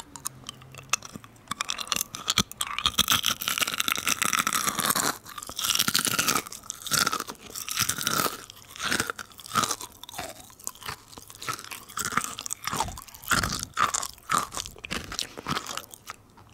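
Loud, close crunching and chewing of a crisp, gritty snack recorded for ASMR, with repeated sharp bites and grinding crunches over about sixteen seconds, no talking.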